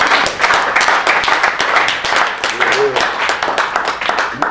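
A reunion audience at a military engineer battalion muster gives sustained applause, dense overlapping claps near and loud throughout, with voices murmuring underneath.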